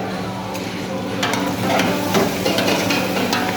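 Vegetables and potatoes are stirred as they fry in oil for vegetable rice, with close scraping and clatter rising over a steady sizzle. No one talks.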